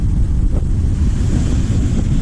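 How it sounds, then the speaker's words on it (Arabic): Rough, heavy surf pounds a nearby shoreline while strong wind buffets the microphone, a continuous loud roar with no voices. "شوفوا البحر كي داير، انا راه قريب ليه هنايا"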